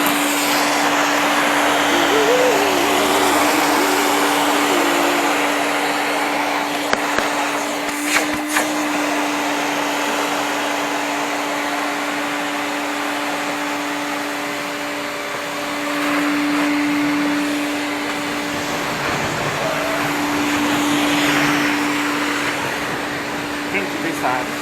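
A vacuum cleaner with a freshly cleaned filter runs steadily at full suction, a continuous whirring drone with a fixed tonal whine that holds for the whole stretch, dipping slightly midway, with faint speech in the background.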